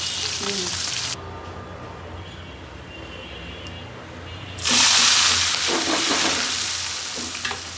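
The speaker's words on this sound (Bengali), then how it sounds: "মাছগুলো ভাজা হতে থাকুক" Hilsa fish fry in hot oil in a pan, a steady close sizzle that surges louder partway through as the pieces are stirred or turned, continuing as a dense hiss to the end.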